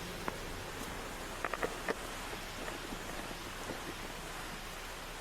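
Steady, dense heavy rain hisses throughout a thunderstorm, with a few brief sharper drips or taps standing out near the start; no voices.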